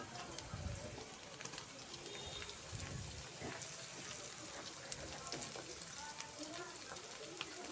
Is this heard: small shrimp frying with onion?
yes